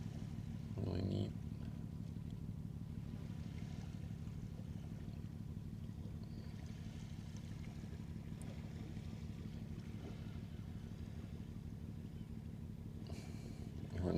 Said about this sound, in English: hearing the heavy rumbling of a ship engine brings me back to my youth